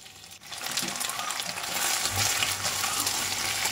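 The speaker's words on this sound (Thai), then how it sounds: "จะเอาเนื้อหมูที่หมักแล้วมาทอดนะคะ" Marinated pork frying in a pan, a steady close sizzle that swells louder partway through and continues as an even crackling hiss with light stirring.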